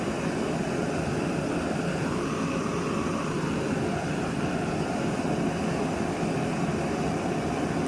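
Fire-Maple Hornet camping gas stove burning under a Petrel HX pot at moderate flame, giving a steady, even, close roaring hiss that holds unchanged throughout.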